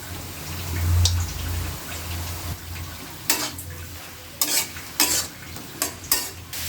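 Potatoes stirred into frying leafy greens in a pan, steady sizzling broken by several loud scraping strokes of a spatula in the second half, close and crisp.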